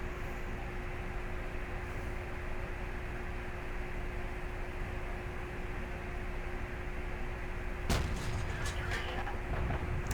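An AT 15A tank in a video game runs with a steady engine rumble, then its cannon fires once with a sharp, loud blast near the end.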